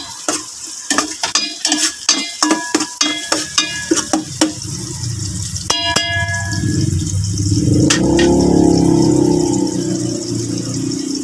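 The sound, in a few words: sautéing onion, garlic and ginger in a pan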